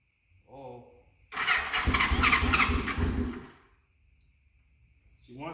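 An old barn-find motorcycle engine cranks and catches, roaring roughly for about two seconds before dying away. It is close and loud, with a voice heard briefly before and after it.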